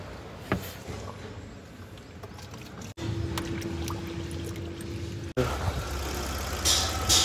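A Tata Nano's small car engine runs steadily at a low, even drone, with a faint whine partway through and a slightly louder rumble near the end.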